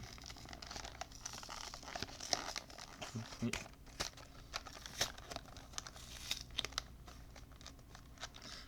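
Crinkly plastic wrapper of a Pokémon card booster pack being torn and crumpled open by hand at close range, with repeated sharp crackles and rustles, a voice speaking now and then.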